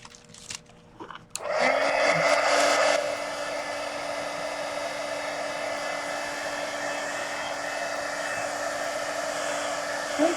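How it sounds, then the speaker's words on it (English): A heat gun dries blue acrylic paint on a mixed media art journal page, switching on after a few clicks and then blowing with a loud, steady whooshing hum that continues to the end. "let me dry this with a heat gun."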